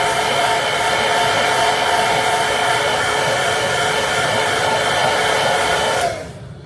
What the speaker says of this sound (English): So we'll hit that with a hair dryer.